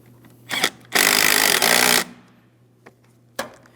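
A 12mm headed mounting nut is driven onto the driver's side flange of a brake master cylinder on a 2003-2008 Toyota Matrix, with a brief power-tool burst and then a longer loud whir, followed by a few faint clicks.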